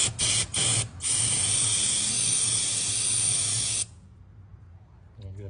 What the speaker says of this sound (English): Spray some brake cleaner on that, clean it up